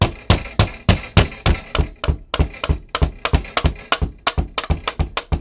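A hammer taps aftermarket wood furniture onto a Draco 9mm pistol, a quick series of about two dozen sharp, close knocks in an uneven rhythm with short pauses between.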